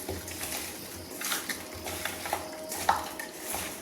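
Raw fish being mixed by hand with cumin and chilli powder in a bowl for a Bengali curry, soft wet squelching and stirring with a few light clinks against the dish, close and without talk.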